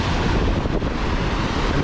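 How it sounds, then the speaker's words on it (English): Strong south wind at Popham Beach buffets the microphone in a steady, loud roar, with surf washing underneath throughout and no voices. "the breeze is coming up like right into me"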